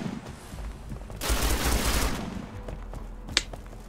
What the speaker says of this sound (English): I don't know who's shooting where.